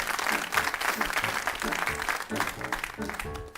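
An audience at a live French chanson concert applauds the pianist, a fairly faint but continuous patter of clapping with light crowd murmur throughout.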